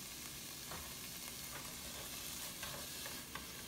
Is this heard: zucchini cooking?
yes